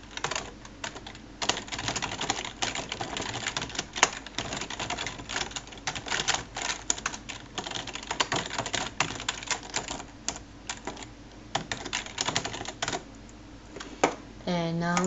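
Continuous rapid clatter of typing on a computer keyboard, close and busy with uneven bursts of keystrokes, plus a faint tonal sweep near the end.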